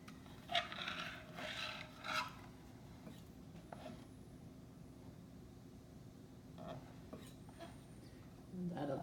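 Frosting is scraped off the edge of a cake board with a few soft, rasping strokes against a steady low hum, fairly faint and close, with brief pauses between strokes.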